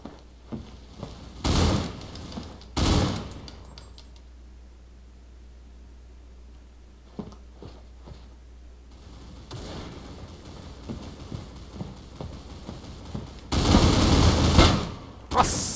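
Several loud gunshot blasts from the mobile shooter game Critical Ops in deathmatch mode, some in quick bursts, separated by quieter stretches of game noise, with a long burst near the end.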